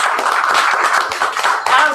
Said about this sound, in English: let's give a nice round of applause to my good friend Andrew